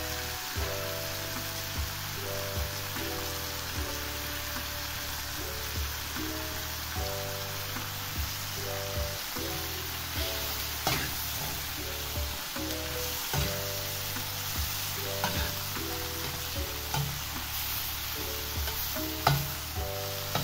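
Genjer (yellow velvetleaf) stir-fried in a pan for a spicy dish with anchovies, giving a continuous close sizzle and crackle broken by occasional scraping stirs, with no talking.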